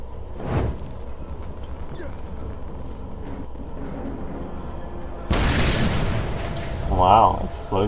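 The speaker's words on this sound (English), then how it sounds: "Wow, explosions." Gas tanks explode in Mad Max gameplay: a short boom comes early, then a heavier, louder blast with a rumbling tail partway through, over a steady background with someone talking.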